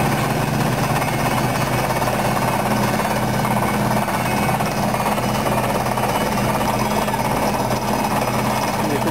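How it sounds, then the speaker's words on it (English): A rock drill hammers continuously at close range, boring down through rock at the Combe Down tunnel, a loud, dense rattling pounding that never lets up. "the hammer action, the drilling going on down below."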